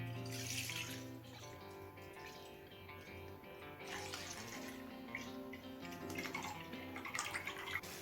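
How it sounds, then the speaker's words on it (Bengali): Half a litre of liquid milk poured into a pan already holding a little water, a continuous liquid splashing and gurgling stream that swells and fades, heard close with faint kitchen hum underneath. "এখন দিয়ে দিচ্ছি 1/2 লিটার লিকুইড দুধ।"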